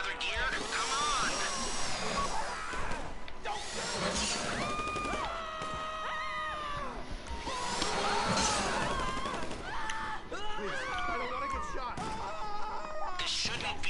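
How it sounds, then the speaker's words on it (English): A power drill whirring in a video game during a live-streamed session, its mechanical tone rising and holding in stretches amid gunfire and crashes, with a player talking excitedly over it throughout. "The drill got another gear?"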